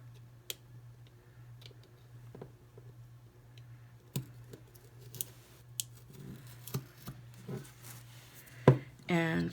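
A small craft knife cuts through a Dollar Tree placemat in a few faint, scattered clicks and scrapes, close up and quiet, with a steady low hum underneath.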